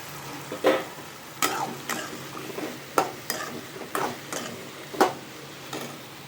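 Long beans are stirred and fried in tomato masala in a pan, with a soft sizzle beneath repeated close utensil scrapes and taps against the pan, roughly one each second.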